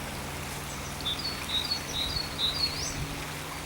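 A blue tit calls from small trees on a riverside nature walk, a few thin, high chirps scattered over soft, faint outdoor ambience.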